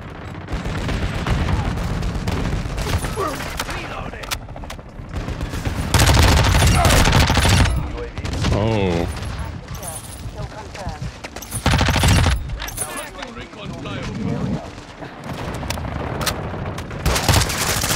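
Bursts of gunfire from Call of Duty Modern Warfare 2, including a Lachmann Sub MP5 submachine gun fired from the hip, crackling in dense repeated volleys with loud booms around the middle, under game noise and talk.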